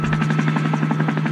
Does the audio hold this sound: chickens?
no